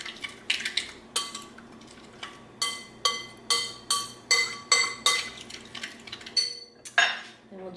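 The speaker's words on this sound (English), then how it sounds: "stir this all together." Bulgogi marinade is stirred in a bowl, with a spoon making a fairly regular series of close, bright clinks and taps against the dish, about one or two per second, with no talking.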